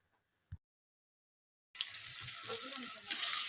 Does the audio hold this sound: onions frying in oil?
yes